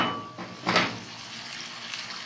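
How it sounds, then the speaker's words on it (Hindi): Chicken curry frying in a pan over medium heat gives a steady sizzle, with a brief clatter of stirring and a utensil scraping the pan near the start. "अब हमने इसको फिर थोड़ा सा भूनना है"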